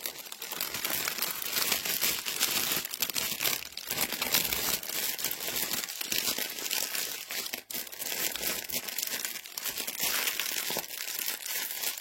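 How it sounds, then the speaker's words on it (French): Close, continuous crinkling and rustling of a plastic bag being handled, crisp and noisy throughout with small crunches. "Avec le bruit du sachet,"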